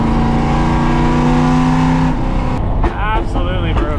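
A NASCAR-inspired Ford F100 with a harsh diesel note drops a gear on a mountain road, its loud steady engine drone suddenly shifting pitch partway through as revs fall, with someone talking over it.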